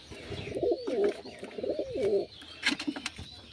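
Several domestic pigeons coo in a close, loud run of rolling, rhythmic calls, followed by a few softer scattered calls and faint chirps, with no talking.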